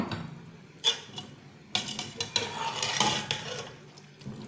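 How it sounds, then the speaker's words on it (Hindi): Chickpeas and chicken feet being fried and stirred in a pot, with irregular spoon scrapes and clinks against metal over a soft background sizzle, moderately close. "और हम इन दोनों चीज़ों को अच्छी तरीके से भून लेंगे।"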